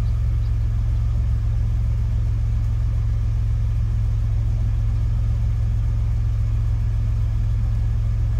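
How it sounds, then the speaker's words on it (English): An Astro van engine idles steadily during a compression test, with a constant low rumble, close and unchanging, with no other sounds. "I'm just sitting here idling."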